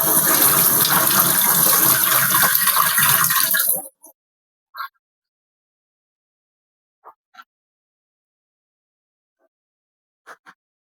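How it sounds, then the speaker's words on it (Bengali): Jujube (boroi) leaves rinsed under a running tap: a steady, loud wash of flowing water for about four seconds that stops abruptly, followed by a few faint taps and handling sounds. "14টা পাতাই পরিষ্কার করে আগে ধুয়ে নিব।"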